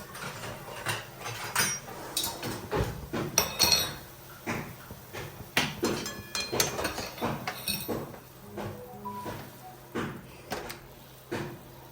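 Cooked chickpeas being mashed in a metal pot for chana masala, a run of irregular clanks, scrapes and dull knocks of the utensil against the pot, close and moderately loud.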